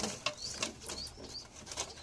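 A breeding pair of pigeons kept at home coo softly at close range, with short bursts of wing flapping in between.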